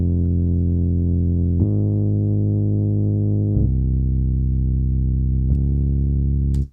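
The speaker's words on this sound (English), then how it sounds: "And then I have this bass line." Sustained bass line played on FL Keys, loud, smooth held low notes that change pitch three or four times across several seconds, with a faint effected, slightly distorted tone and no voices.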